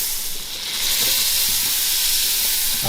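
About 50 grams of butter melting in a skillet, a loud, continuous bright sizzle and hiss close by that swells slightly after the first second.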